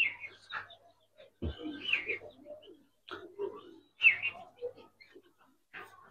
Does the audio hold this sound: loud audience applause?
no